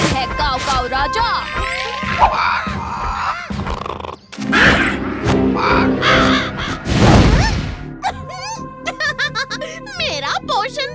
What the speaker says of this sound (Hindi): भीम कौवा आपकी खिदमत में हाजिर है काव काव राजा